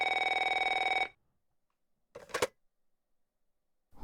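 A retro telephone rings in the video game NeoFeud 2, one steady ringing burst for about a second, loud and alone, followed by silence and a short unrelated noise.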